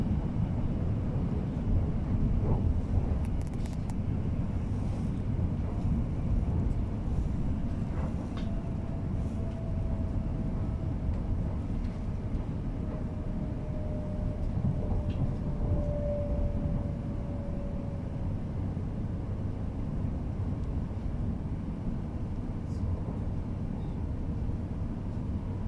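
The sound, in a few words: West Midlands Railway Class 323 train running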